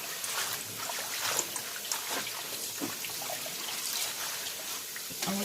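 Water runs and trickles while mustard greens are washed, a faint, steady splashing wash with small irregular drips and rustles, nothing else prominent.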